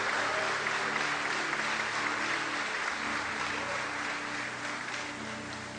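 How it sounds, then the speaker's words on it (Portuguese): A church congregation applauds during a Sunday evening service, producing a sustained, dense wash of clapping that holds steady for several seconds and tapers slightly at the end. "Dê um aplauso a esse Deus maravilhoso. Pode ser mais forte esse aplauso."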